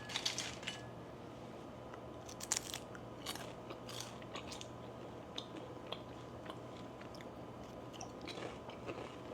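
Someone bites into homemade almond-pulp seaweed crackers, giving faint, sparse crunches and crackles against a quiet room hum, with no talking.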